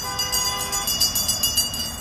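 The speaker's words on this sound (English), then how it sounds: "they're going nuts with these bells" Protesters ring handheld bells at a street-corner demonstration, a rapid, loud jangling that repeats in pulses over steady traffic noise, with no talk.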